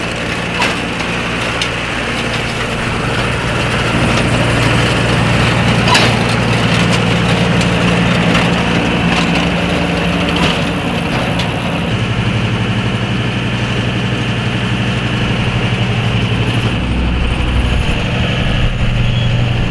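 A sod harvester's engine runs loud and steady close by in the field, a constant low drone with clattering mechanical noise from the machine over it.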